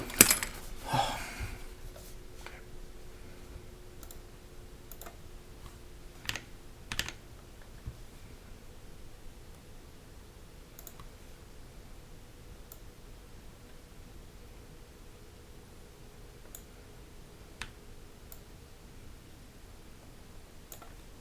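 Typing test on a custom-built Space65 mechanical keyboard, a sparse run of soft, close key clicks and thocks with uneven spacing over quiet background hiss, a busier rustle at the very start.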